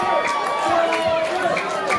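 A pro wrestling crowd at a Christmas event roars and cheers in a continuous, dense wash of voices filling the arena, with no break in the noise.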